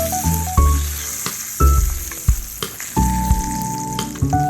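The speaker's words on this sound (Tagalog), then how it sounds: "piniprito pa natin yung tuyo" Tuyo, dried fish, frying in a pan: loud, close, continuous sizzling crackle with steady hiss, overlaid by tonal hums and a few sharp clinks and pops.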